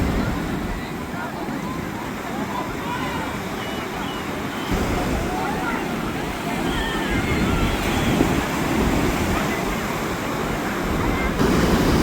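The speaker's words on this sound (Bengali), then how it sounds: "অসাধারণ ঢেউ দেখো, কি বিশাল আকারের ঢেউ দেখো।" Large monsoon sea waves roll in at Puri beach, a constant heavy roar of surf with wind buffeting the microphone, and people talk over it.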